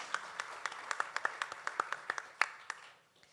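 Sparse, faint clapping from a small audience at an anniversary talk event, a dozen or so distinct claps in loose rhythm that quickly fade out.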